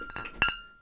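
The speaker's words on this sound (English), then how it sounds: "750ml glass bottles of apple cider vinegar" Several 750ml glass bottles of apple cider vinegar clink together in a few quick, bright taps, with one sharper knock near the end before the ringing fades, close and alone.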